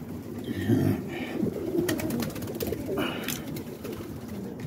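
Pigeons coo softly nearby, low throaty calls repeating over a steady outdoor background with some rustling and faint bursts of noise.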